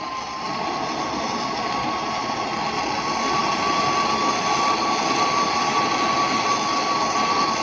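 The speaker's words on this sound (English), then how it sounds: "And then direct the torch on silver." Jeweler's torch heating silver on a copper piece gives a steady, loud, close roaring hiss that holds evenly throughout, with no voices.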